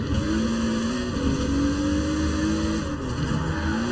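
A video game car engine, a Fairlady Z chassis with a Supra engine in Forza Horizon 4, drones and revs continuously, its pitch rising and falling, loud and steady throughout.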